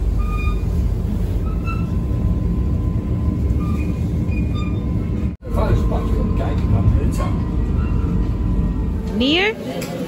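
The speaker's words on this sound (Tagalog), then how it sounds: "Nasa train na kami." Inside a moving passenger train in the Netherlands, a steady rumbling roll with rhythmic wheel clatter fills the clip, with a brief cutout midway and a short wheel squeal near the end, while people talk over it.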